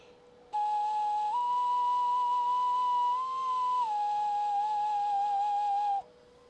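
Small 3D-printed Māori wind instrument blown as a single sustained whistle-like tone for about five and a half seconds, wavering slightly in pitch, loud and close, with no talk.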